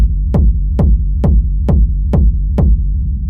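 A dry techno kick drum hits seven times at a steady pace, each punchy thump sliding down into a deep, booming low tail that rolls into the next hit with no effects applied.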